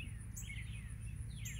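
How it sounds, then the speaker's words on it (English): Two bursts of thin, high chirping from a baby bird fallen out of its nest, heard over a low, steady background hum. "I know that you're aware of this baby bird, Lord."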